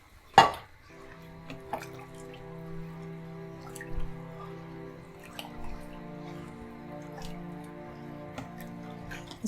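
Gravy with rice balls bubbling at a boil in a cooking pot, a sharp clink near the start and then a steady, close simmer with faint drips and stirring, no voices.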